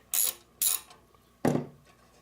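A ratchet with a Torx bit socket turns a tight screw, giving three short rasping clicks close by: two quick strokes, a pause, then a heavier final stroke.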